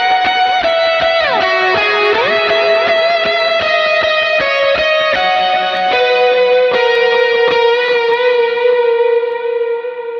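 Overdriven electric guitar run through a Line 6 Helix with delay and reverb placed after the amp, sustained distorted chords and notes ringing out with trailing echoes, loud and continuous without talk.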